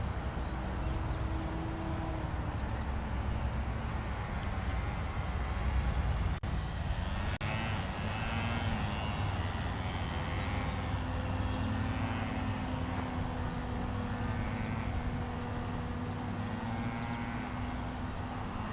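An E-Flite Timber RC airplane flies over a river in the early morning, its small electric motor giving a faint, steady whine and drone that shifts slightly in pitch against a constant background hum.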